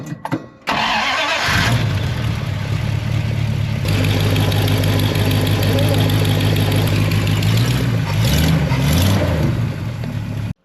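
An abandoned Dodge Power Wagon with a custom exhaust cranks, catches and settles into a loud, steady idle up close, with a couple of brief revs near the end and voices now and then.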